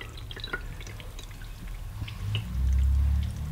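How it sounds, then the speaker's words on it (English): Rendered bear fat poured from a slow cooker through a strainer into a pint jar: scattered drips and trickles, then a steady, fuller pour building near the end, close and fairly quiet. "I'll just lift it out and pour the last of the fat through"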